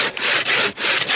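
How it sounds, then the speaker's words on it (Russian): A thin-bladed bow saw cuts wood in the frozen taiga at minus fifty, three loud, close rasping strokes in a steady back-and-forth rhythm with short pauses between them. "у нас пилочка лучковая работает"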